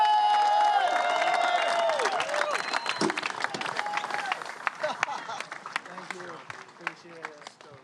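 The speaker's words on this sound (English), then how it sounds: "Let's have a big round of applause and congratulations to Levi Slauson!" Crowd applause and cheering at the finals of the Lexus US Open of Surfing in California for surfer Levi Slauson, loud at first and gradually thinning out, with scattered claps and voices mixed in.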